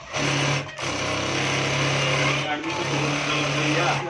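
A Juki auto-trimmer sewing machine motor hums steadily at close range, with a constant tone that dips briefly a couple of times before resuming.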